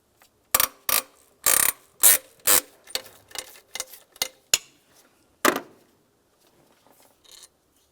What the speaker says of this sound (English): Now we can remove the final bolt up here.